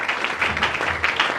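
A church congregation applauding for the Lord at a French-language service, a dense burst of clapping with a few raised voices, close and fairly loud throughout.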